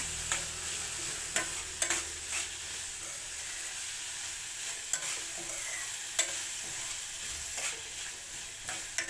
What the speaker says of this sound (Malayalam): എനിക്ക് ഈ ചീഞ്ചട്ടി പെട്ടെന്ന് അടി പിടിക്കുന്ന ചീഞ്ചട്ടി ഇളക്കിക്കൊണ്ടിരിക്കണം